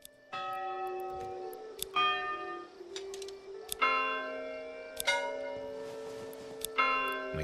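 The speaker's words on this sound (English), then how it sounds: "Oh, change the church bell sound." Several separate church bell strikes in a video game ring out, each with a bright metallic tone that decays slowly, spaced a second or two apart, fairly quiet.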